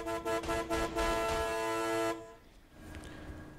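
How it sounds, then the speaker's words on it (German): Car horn in the video game Mafia III, a series of loud, short honks followed by one long held blast that cuts off sharply, leaving quieter background sound behind. "Und gleich kräftig hupen immer."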